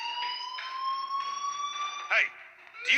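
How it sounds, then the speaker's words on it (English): A fire alarm rings in the Life is Strange game as a steady, piercing electronic tone that pulses faintly. Short voiced sounds break in near the end. "Hey, do you hear that fire alarm?"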